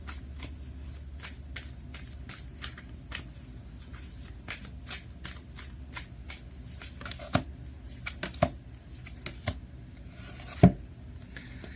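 Tarot cards shuffled for a reading, a steady run of soft riffling flicks and slides, close and fairly quiet, with a few sharper taps and snaps near the end; no one speaks.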